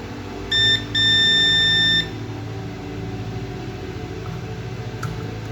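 A multimeter in continuity mode gives a steady electronic beep while probing a capacitor on a laptop board: two tones, a short one then a longer one of about a second, over a quiet room hum.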